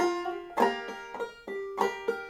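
A banjo played clawhammer style: a sliding note, then bright strummed chords and a popped high string in a bouncy, uneven rhythm, close and clear.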